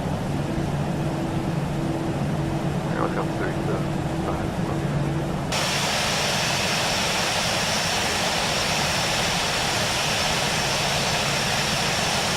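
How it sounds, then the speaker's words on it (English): Airliner jet engines spool up to a steady, loud roar during pushback and taxi at a gate in Kyiv, with a low hum that swells into a broad, constant rush while voices talk in the cockpit. "Відпускаємо паркуючі гальма, трошки збільшуємо режим двигунів."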